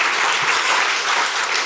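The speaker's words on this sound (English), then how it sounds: "So I just want to give a round of applause for Bob Mal, please." Audience at a closing-remarks event claps steadily in dense, sustained applause, loud and even throughout with no voices over it.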